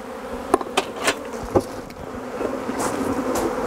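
Honey bees buzz steadily at an open hive during a disease inspection, with a few louder passes of single bees close by over the continuous hum.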